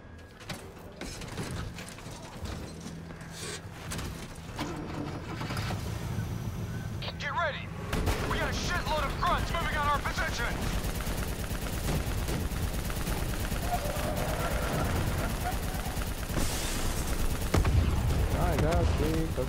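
Rapid turret gunfire rattles continuously in the Black Ops III video game, loud and layered with explosions and engine rumble, while voices call out over the combat.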